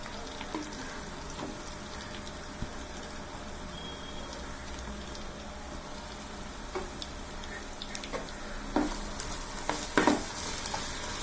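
Ginger, garlic and masala frying in a pan for mutton biryani, a steady close sizzle with occasional sharper crackles and stirring clicks near the end, with no talk.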